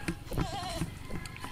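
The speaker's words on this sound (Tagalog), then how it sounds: "yung kambing natin na pa imi-imi ba, sinanawag yung kambing, siguro inuuhaw" A thirsty farm goat calls out with a short wavering bleat, close by and fairly quiet, between softer rustling noises.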